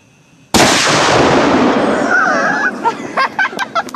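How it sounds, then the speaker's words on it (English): A rifle shot fired through a blanket: one loud, sharp blast that decays into a long rumbling roar, followed by clattering debris and voices talking close by. "you shot through the blanket"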